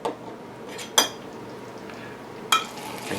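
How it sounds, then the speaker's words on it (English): A spoon stirs white food coloring into cupcake batter in a measuring cup, giving three sharp clinks against the cup spread over a few seconds, with no talking. "And quickly stir that in"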